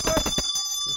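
A bell used to call pigeons rings several times in quick succession, bright and ringing, then its tone lingers and fades against a quiet background.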